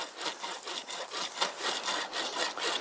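A hand saw cuts through a branch during spring pruning, its steady back-and-forth strokes rasping through the wood in an even rhythm, close and clear with no talking.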